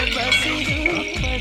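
Chopped onions tipped into hot oil in a pan for mushroom biryani, a close, steady sizzle with stirring and light utensil clinks.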